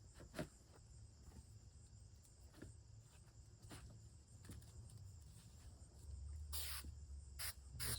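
Insects such as crickets chirp outdoors in a steady faint high trill, with scattered brief clicks and a low rumbling background that swells toward the end.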